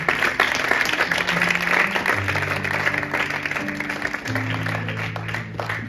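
A church congregation applauds together during a service, a dense, steady wash of clapping with sustained tones underneath, holding at an even loudness throughout.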